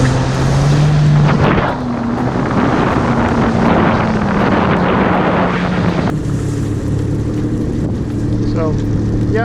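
A jet ski fitted with added sound deadening runs at speed, a steady engine drone that shifts pitch, heavily buffeted by wind and water rush throughout.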